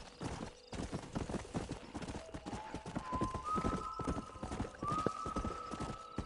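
Horse hooves clop in a quick, regular gallop rhythm in the video game Red Dead Redemption on PS4, close and prominent, with a rising whinny-like tone partway through.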